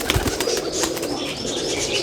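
Pigeons flap their wings in flight in quick fluttering bursts, with soft cooing and chirps around them, near and steady, and no voices.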